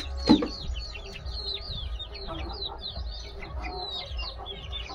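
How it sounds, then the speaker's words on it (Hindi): A black Teni hen of pure Aseel stock clucks softly on a free-range poultry farm, with a string of short calls from other nearby birds and one louder squawk near the start against a quiet outdoor background. "टेनी मुर्गी है।"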